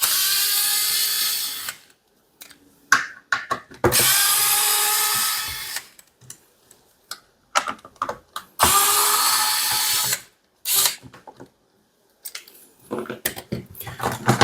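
A power screwdriver whirs in several bursts of a few seconds each, removing the screws holding a hot water tank in a DB-5500 unit, with clicks and handling noises in the gaps between runs.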